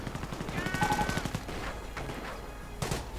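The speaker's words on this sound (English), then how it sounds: "A push by Mvgame, mortar rounds flying." Mortar rounds firing in a real-time strategy battle, heard as a quick series of sharp, fairly faint reports in close rhythm, followed by a few scattered single thumps.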